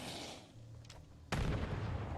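A grenade goes off in a medieval-style video game, a sudden loud boom that cuts in abruptly and rumbles on, following a quieter stretch with a faint low tone.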